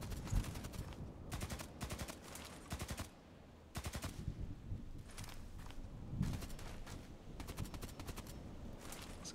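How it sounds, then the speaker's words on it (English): Bursts of gunfire in an SKS sniper game, several rapid volleys separated by short pauses, fairly loud and heard without talk. "Guy shooting."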